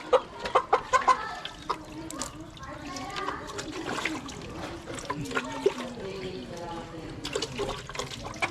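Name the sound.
chickens clucking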